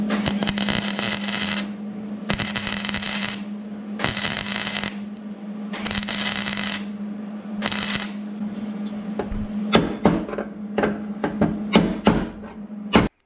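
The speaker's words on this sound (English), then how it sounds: "hammer and punch is good to push the metal back in so it won't be as hard to weld in a little bit" Hammer and punch strike warm rocker panel metal on a Mercury Sable station wagon, a run of loud sharp metallic bangs in bursts, then quicker scattered taps near the end, over a steady background hum.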